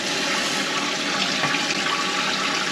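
Water rushes into a toilet tank after the supply is turned on during a fill valve installation, a steady, close, loud hiss of filling water with no voices heard.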